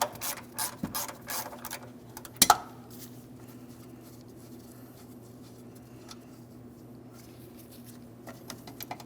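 A ratchet removes a 10 mm mounting nut on the fuel tank filler neck of a 2005-2010 Chrysler 300, with a quick run of clicks at the start and one sharp clack, then quiet rustling.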